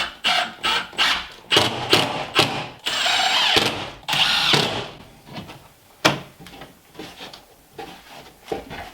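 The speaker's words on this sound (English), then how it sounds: "I'm going to put a couple of extra screws in here." A power drill drives screws in short repeated bursts, loud and close, with brief pauses between runs and some rubbing and handling noise.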